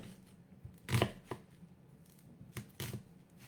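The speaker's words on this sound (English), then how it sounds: "just getting a decent chop here" A knife chops roasted beets on a board in a kitchen: a handful of quiet, crisp thuds spaced irregularly, one louder cluster then two more later, close and alone.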